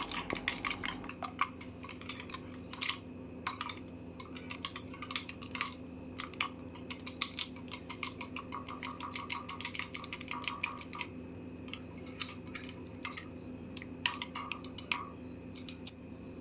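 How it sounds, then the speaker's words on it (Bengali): A spoon stirs yogurt with raw mango pulp and grated mint in a bowl, making a steady run of light clinks and scrapes against the bowl over a low background hum. "এই দুটো উপকরণ দিয়ে দইটির সাথে খুব ভালো করে কিন্তু আমি মিশিয়ে নেব"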